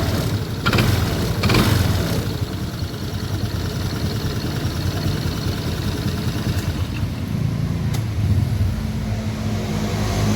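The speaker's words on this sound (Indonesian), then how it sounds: "CVT-nya sangat kasar sekali." A Honda Vario 160 scooter engine running with a rough, noisy CVT, a loud continuous low rumble and rattling drone with a few brief clunks, heard close up with no talking.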